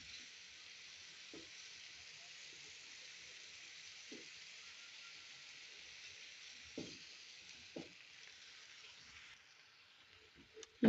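Boiled black chickpeas sizzle in a pan of frying spices, a steady hiss throughout with a few scattered clinks and scrapes of stirring. No one talks.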